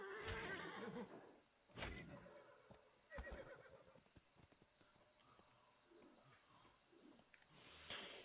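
A horse in the Atlas video game gives several faint whinnies and snorts, spaced a few seconds apart over soft hoof clops and quiet background birdsong.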